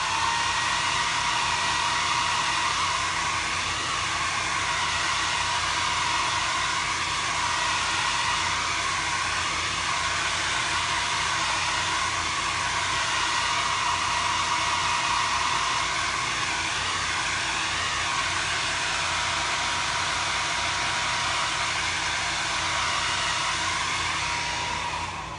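A handheld dryer drying chalk paste on a craft project, a loud, steady whirring blow that runs without pause for about twenty-five seconds, close by with no talking.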